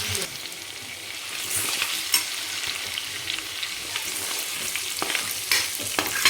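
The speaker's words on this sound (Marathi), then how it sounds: "1 मिनिटभर आपण परतून घेऊ." Ginger garlic paste sautéing in hot oil for spicy dry mutton, a steady close sizzle with occasional stirring scrapes and soft clicks of a spoon against the pan, no voices.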